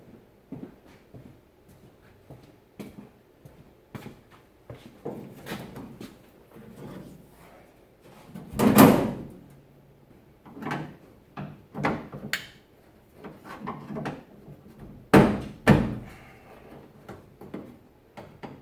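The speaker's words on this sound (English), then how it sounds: "Now maybe we can see if we can open up the door." Someone works at opening a door after getting the window down, producing a series of knocks, clicks and rattles with one loud scrape or thud in the middle and more bangs near the end.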